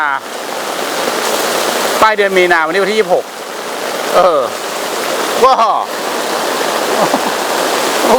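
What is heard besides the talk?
heavy rain at a campsite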